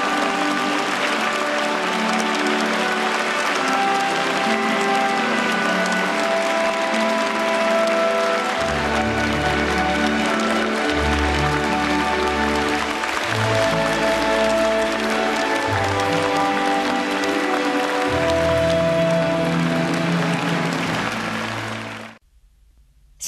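Warm, sustained applause fills a concert hall at a gala marking 75 years of China-Russia diplomatic ties as Xi Jinping and Putin walk in, with music sounding throughout before everything cuts off abruptly at the end.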